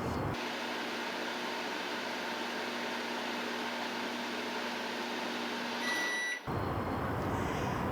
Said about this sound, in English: we will use extreme heat by putting it into the microwave for 15